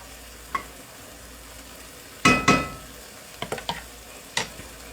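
Pork sausage frying in a pan with cabbage, a steady low sizzle broken by a few sharp clatters and scrapes of stirring; no voices.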